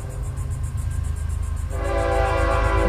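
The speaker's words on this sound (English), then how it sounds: "A train's coming through." A train passing through, its rumble and rail clatter rising steadily, with a sustained horn tone joining and growing louder as it nears; no talking.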